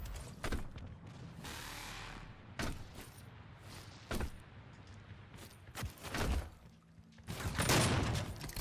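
A one-shot rifle in the Doom closed beta booms with several loud, separated blasts, each a sharp broadband crack standing out over quieter game ambience.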